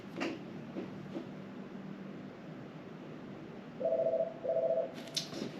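Two short electronic ring tones from a phone sound in succession over a quiet room background inside a Hyundai car dealership, with faint shuffling before them.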